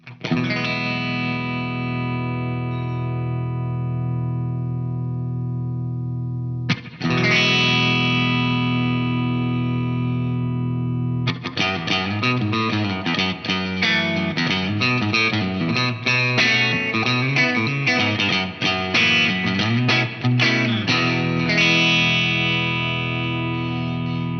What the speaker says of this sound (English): you're going to hear the amount of compression increase